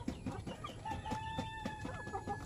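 Backyard hens and a mother hen clucking steadily at moderate distance, a rhythmic series of short clucks with a faint crow in the mix, no talking.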